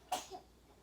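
A single sudden sneeze bursts out during a yoga class, loud and brief, followed by a faint trailing exhale in a quiet room.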